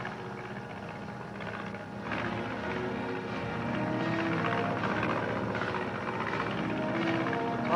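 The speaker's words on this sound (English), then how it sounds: "Watch the plane." Propeller airplane flying in a 1950 film serial, a steady droning engine rumble that swells slightly louder partway through and holds continuously, with no talk over it.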